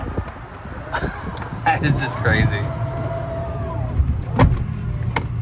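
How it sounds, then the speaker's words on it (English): A 2018 Tesla Model X falcon wing door closes automatically with a motorized whir and soft thumps inside the car, while a person talks over it. "So if I hit this button right here, we're gonna close the door"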